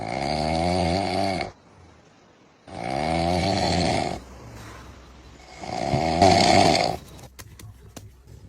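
A person snores in loud, slow cycles, with three long rasping breaths separated by quiet pauses and no talking.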